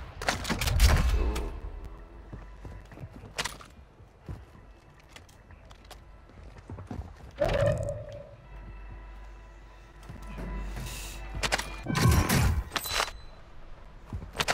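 Shotgun blasts in a first-person video game firefight, several loud sharp bursts spaced irregularly among other battle noise, with no one talking over them.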